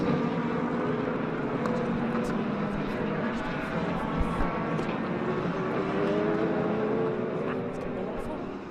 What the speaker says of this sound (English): the sounds of 59 IMSA WeatherTech Sports Car Championship cars out on track